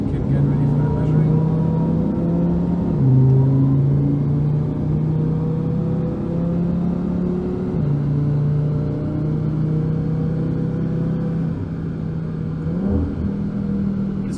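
A tuned Audi TT RS 8J with its 2.5 TFSI five-cylinder and big turbo kit idles and revs steadily while warming up, a loud continuous engine drone with slight pitch steps, close by and unbroken, with no talk.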